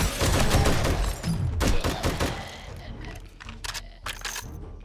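Machine gun fire in 7 Days to Die, loud rattling bursts with sharp individual shots spread across the stretch, fading to scattered cracks, with someone talking over it.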